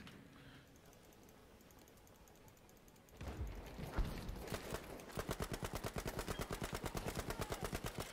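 Gunfire in the video game Battlefield V: after a quiet stretch, shots break out and turn into rapid, evenly spaced automatic bursts that are loud and close.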